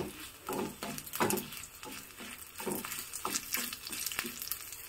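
Fenugreek, black pepper, ginger and garlic dry-roasting in a pan, with a steady rhythmic stirring scrape repeating about once a second over a soft hiss, close and fairly quiet.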